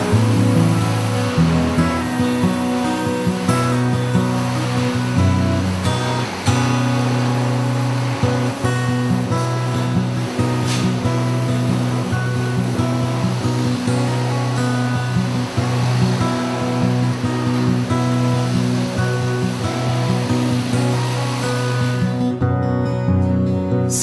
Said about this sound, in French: revenir à l'endroit où vous l'avez appliqué en premier pour effectuer le rinçage à l'aide d'un pulvérisateur à haute pression